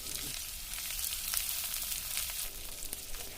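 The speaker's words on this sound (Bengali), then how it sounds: "প্রথমে আমি পেঁয়াজ কুচি দিচ্ছি।" Chopped onion frying in a pan with potatoes crackles and sizzles continuously up close, a dense even hiss with small pops and no voices.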